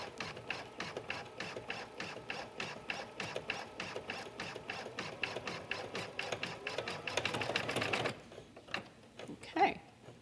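Embroidery sewing machine stitching a design onto a sweater, a fast, steady mechanical clatter of needle strokes that runs close and even for about eight seconds, then stops, leaving a few quiet handling noises.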